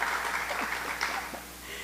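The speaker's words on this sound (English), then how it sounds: "well-deserved applause" Audience applause at a police foundation fundraising event, a dense steady patter of many hands clapping, fairly loud and close, without talk.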